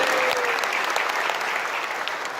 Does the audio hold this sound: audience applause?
yes